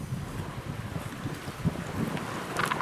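Wind gusts across Jekyll Island's fishing pier, a loud, rumbling, continuous buffeting against the microphone with faint water movement underneath.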